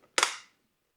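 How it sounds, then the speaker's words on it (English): A borosilicate glass food storage container's lid snaps shut in one sharp, close, loud click that fades within a fraction of a second. "Close the lid."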